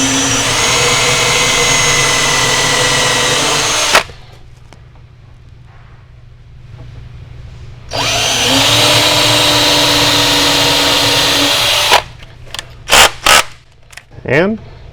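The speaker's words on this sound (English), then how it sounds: "then we can drill a couple of pilot holes." A power drill boring pilot holes for a custom cabinet door hinge: two loud, close bursts of steady motor whine with a quiet gap between them, followed by a few short clicks and taps.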